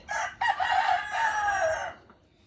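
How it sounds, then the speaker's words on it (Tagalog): A rooster crows once, close and loud, a long rising then falling call lasting about two seconds before fading out. "yung ating one-time winner. Manok ni Boss Clifford."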